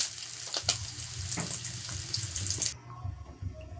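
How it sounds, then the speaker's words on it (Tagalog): Water pours from a tap into a cooking pan while pancit is being made, a continuous splashing gush that cuts off abruptly near the end, leaving faint clinks behind. "Lagyan na muna natin ng tubig."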